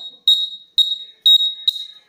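A buzzer on a school-project earthquake alarm detector, built with a 9-volt battery, switch and nut bolt, sounds four short, loud, shrill beeps in an even rhythm, alone and close.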